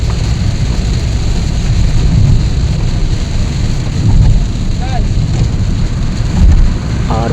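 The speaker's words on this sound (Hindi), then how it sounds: "आप यहाँ देख सकते हैं कि बारिश बहुत चालू हो गई थी" Heavy rain pours steadily during a trip, a loud dense roar of falling water with low rumbling swells and a few faint chirps over the constant downpour.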